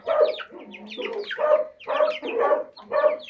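Chickens cluck busily while pecking at freshly served feed on a rural farmyard morning: a close, continuous run of short overlapping clucks and chatter.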